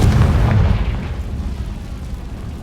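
A Confringo blasting spell explodes in Hogwarts Legacy as a deep, loud boom that rumbles and slowly fades away.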